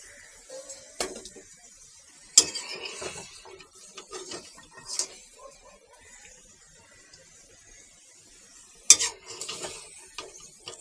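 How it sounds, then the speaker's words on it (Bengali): Fried goat meat is lifted from a pan with a metal utensil, giving sparse scrapes and a couple of sharp clinks against the pan over a faint sizzle, with quiet gaps between. "এখন আমি মাংসগুলোকে তুলে নিব তা আমি এখান থেকে তুলে নিচ্ছি"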